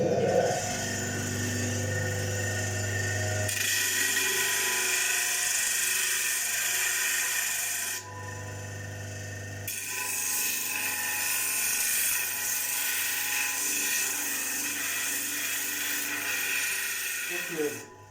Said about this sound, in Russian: После распиловки мы обрабатываем на шлифовальном станке